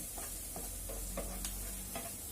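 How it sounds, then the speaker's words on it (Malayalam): Chopped okra is stirred into frying ingredients with red chillies in a pan. A close spoon scrapes and clinks in several short strokes over a steady soft sizzle. "ഇത് നന്നായി മിക്സ് ചെയ്യുക."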